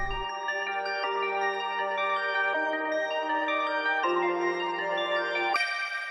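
Ambient guitar arpeggio with a second halftime effect at 25% layered in, built in FL Studio for a sample; sustained, shimmering plucked notes ring in overlapping waves, changing chord every second or so, with no talking.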